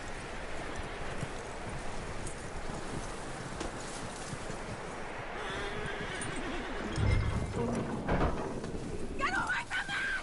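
A horse's hooves clip-clop steadily over ground in the video game Red Dead Redemption 2, a continuous moderate rhythm under wind-like ambience, with a brief whinny and faint whispery voices near the end.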